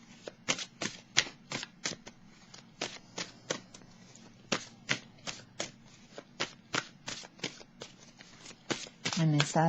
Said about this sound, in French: Je vais piger une carte maintenant, un message de l'univers pour terminer pour ce jeu.